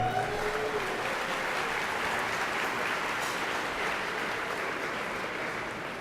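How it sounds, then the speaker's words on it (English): Audience applause at the eircom Spiders awards ceremony, a dense, even roar of clapping from a large crowd that holds steady for several seconds, with no talking over it. "a big round of applause to all those involved"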